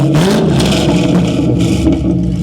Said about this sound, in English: The exhaust sounds nice.